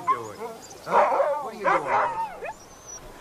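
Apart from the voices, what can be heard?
dogs barking and whimpering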